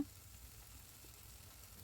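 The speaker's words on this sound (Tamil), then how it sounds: "நம்ம அரைச்சி வச்சுருக்கிற மசாலா பேஸ்ட்டையும் சேர்த்து நல்லா வதக்கி விடுங்க" Egg masala paste of ground spices with ginger and garlic sautéing in a hot pan, a soft, steady, low sizzle heard faintly and alone.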